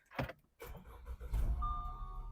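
A 2015 Audi Q5 with push-button start: a couple of clicks and a brief starter whir, then the engine catches and settles into a steady idle with a faint electronic tone, close and clear.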